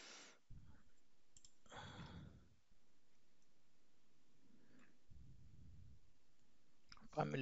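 A computer mouse clicks while Revit to STAAD.Pro software is in use, giving a few sharp, close taps spaced through a quiet stretch, mixed with soft breathing and faint rustling.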